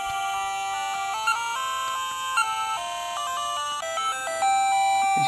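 Chiptune music from the NES game 8 Eyes playing on a Pocket Go handheld, bright square-wave melody lines stepping through quick notes over a steady backing, continuous and clear with no talking.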